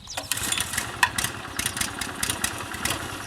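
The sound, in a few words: petrol groomer engine starting and running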